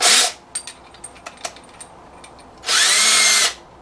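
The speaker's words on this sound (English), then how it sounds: "let's ream this hole out a little here." A power drill reams out a hole in a lawn care trailer lock: a loud high whine bursts briefly, then scattered metallic clicks and taps, then a second sustained whine of about a second.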